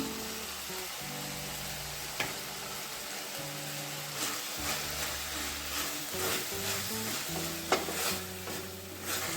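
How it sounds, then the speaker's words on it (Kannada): Tomatoes with salt fry for a cauliflower pepper fry, a continuous sizzle in the pan broken by stirring scrapes and occasional clinks of a spoon, and no talking. "ಟೊಮೆಟೊ ಚೆನ್ನಾಗಿ ಫ್ರೈ ಮಾಡ್ಕೊಳ್ಳೋಣ ಸ್ವಲ್ಪ ಉಪ್ಪು ಹಾಕ್ಕೊಳ್ಳೋಣ"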